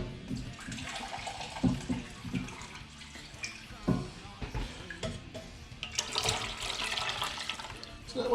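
Shrimp stock poured into a pot of milk and grits warming on low heat for shrimp and grits gives a steady, splashy liquid pour with some clinking, moderately close.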